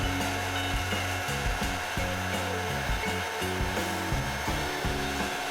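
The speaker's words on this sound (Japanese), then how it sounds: "続いてはドライヤーの風とトーチで波を作っていきましょう。" Hair dryer set to warm air, blowing over resin in a resin-art piece to push waves, a loud continuous whirring roar held close and steady with no talking.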